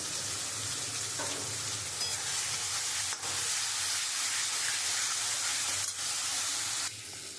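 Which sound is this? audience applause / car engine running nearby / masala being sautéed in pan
masala being sautéed in pan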